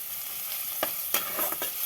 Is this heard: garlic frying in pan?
yes